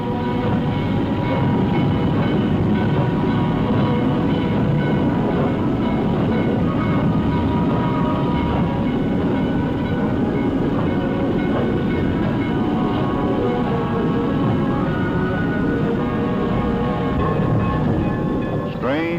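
Trains rolling through a busy railroad yard in southern New England in the early 1940s, a loud, steady rumble of wheels and cars with faint rhythmic clatter, continuous throughout under a narrator's voice.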